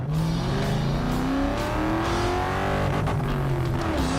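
A 2004 Ford Mustang GT on a Palomar Mountain road, its V8 engine revving loud and close with rising and falling pitch sweeps as it accelerates, no talking.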